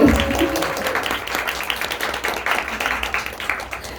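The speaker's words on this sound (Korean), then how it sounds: "박수 쳐주시면 빨리." A concert audience at a small club show claps in a brief burst, loud at first and then settling into steady scattered applause with a faint voice briefly at the start.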